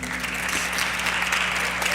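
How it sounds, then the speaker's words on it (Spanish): Senators applauding in a legislative chamber, a steady, dense patter of clapping that holds evenly for the full stretch, with a faint background murmur and no clear speech above it. "que tanto están aplaudiendo."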